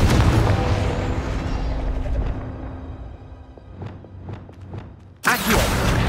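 A Confringo fire-spell explosion in the video game Hogwarts Legacy: a loud, broad rumbling blast that fades over several seconds, followed by a few softer thuds and a sharp new burst near the end.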